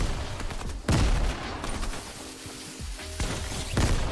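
Shotgun blasts in Fortnite ring out as three heavy booms spaced a second or more apart, with clattering reload and movement sounds in between, all against a busy game background.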